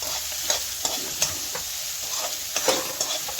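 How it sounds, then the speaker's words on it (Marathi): Kurdu greens stir-fried with onion in a pan, a continuous soft sizzle with regular sharp spatula scrapes and clinks every half second or so, close and without any voices. "हा कांदा घातला की ही भाजी परतायची"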